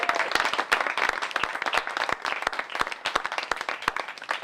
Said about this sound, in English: My finance director, Ben, just gave us the loudest clap on that one